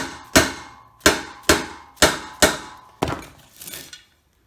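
A hammer taps a part down onto a bicycle rear wheel during a wheel build, giving five sharp, evenly spaced metallic strikes close up, then two softer, duller taps.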